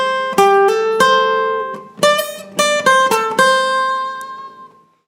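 Guitar picks out a phrase from a song, mixing single notes and bent strings. The close, ringing plucks come in uneven groups before the last note fades to silence.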